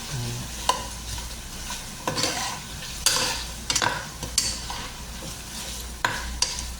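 Chicken feet sautéed in a pan with a little ginger: a constant sizzle broken by repeated scraping strokes of a spatula against the pan, close up and without speech.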